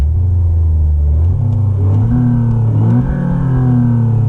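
Renault Clio 4 RS fitted with an R-Sound effect system imitating a Clio 2 V6 engine, revving with a loud, steady rumble that rises and falls in pitch across several seconds, close by with no talk.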